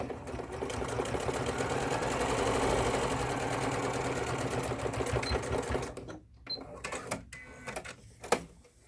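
Sewing machine back stitching over elastic, a steady close whirring hum with quick needle rattle that runs for several seconds, then stops and gives way to a few short clicks and thumps.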